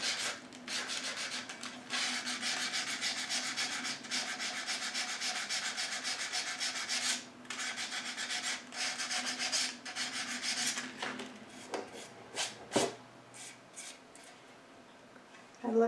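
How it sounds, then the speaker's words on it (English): Sandpaper worked by hand along the rough edge of a cradled wood watercolor panel, long steady scratchy rubbing strokes with brief pauses, close up and alone, ending in a few lighter touches. "I'm just going to sand it a little bit more, very carefully. I'm not pressing hard."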